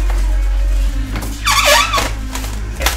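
A desktop computer with an i7-6700K and GTX 1070 squeaks while it is being unboxed, giving one sharp, loud, wavering squeal in the middle of the clip over a low hum.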